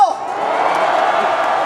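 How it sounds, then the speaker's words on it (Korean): Crowd at a patriotic national emergency prayer rally in Daejeon cheering and clapping loudly, a dense continuous roar of applause and shouts filling the short moment without a break. "다 같이 박수 한번 드릴까요?"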